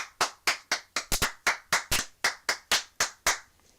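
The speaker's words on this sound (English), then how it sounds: "Everyone just start clapping." A small group of people clapping in loose unison, about fifteen sharp, evenly spaced claps over a few seconds, close and clear with no talk over them.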